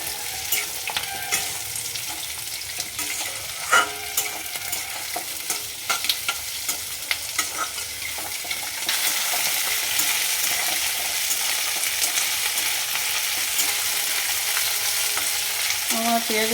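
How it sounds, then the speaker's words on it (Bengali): Onions stir-fried on high flame for chilli chicken sizzle steadily in a pan, with scraping stirring strokes early on, then a louder, denser continuous hiss in the second half. "আমার পেঁয়াজগুলো প্রায় ভাজা হয়ে গেছে। হাই ফ্লেমে এটা করতে হবে।"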